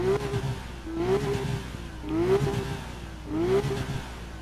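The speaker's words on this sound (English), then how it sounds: "Let's give it a little rev." A Porsche 911 GT3 engine in the racing game Need for Speed Rivals revs up three or four times in rising swells, loud and close, with short dips between the pulls.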